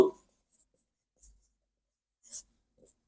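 Pen strokes scratching on paper during a Bengali school maths lesson, with a few short, faint, scattered bursts separated by quiet gaps.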